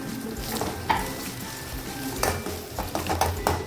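Tomato frying in gravy in a pan, a busy close sizzle with repeated scraping and stirring clinks of a utensil against the pan, steady and loud with no voices.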